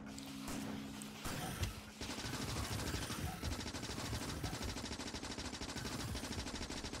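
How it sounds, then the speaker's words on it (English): Rapid automatic gunfire from the factory-building game Factorio, a dense, steady rattle of shots that fills the scene continuously after a brief opening of lighter machine hum. "Let's just shoot our way through here."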